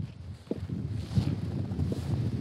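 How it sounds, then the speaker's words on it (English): Strong wind blows across snowdrifts, a steady low rumbling buffet with gusting surges and brief thumps against the microphone, loud and continuous with no talk. "the wind is really kicking"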